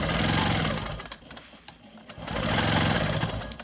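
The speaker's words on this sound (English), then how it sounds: "So I'll quilt the next ruler work line over here" A Quilt Maker Pro 20 quilting machine stitching ruler work hums in a fast, steady mechanical buzz that eases off briefly in the middle and then runs loud and continuous again.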